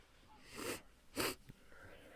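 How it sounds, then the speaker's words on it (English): A single person sneezes twice in quick succession, a sharp breathy burst followed by a louder second one, close and fairly soft, with faint background noise between them. "I got to sneeze."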